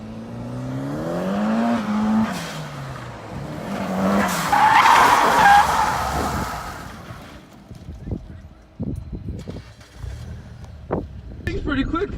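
A 2500 turbo diesel pickup drifts with the e-brake pulled, revving, then skidding with a long rough tire scrub, followed by scattered thumps and engine sounds as people talk nearby.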